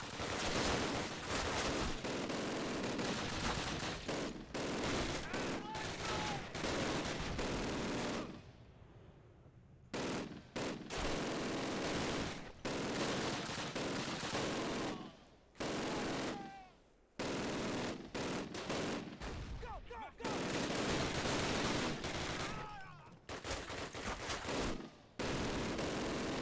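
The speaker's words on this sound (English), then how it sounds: "grab that MG42 and use it" An MG42 machine gun fires in Call of Duty, the 2003 original game. It sounds in long, dense, loud bursts of automatic fire across the whole stretch, broken by a few brief pauses.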